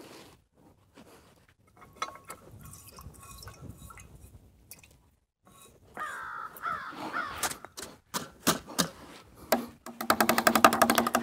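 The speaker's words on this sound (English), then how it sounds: "Oh, hello, Mr. Crow." A crow caws outdoors, its harsh calls sounding as sharp repeated bursts in the latter half, with quieter rustling and soft handling noises earlier and no talking.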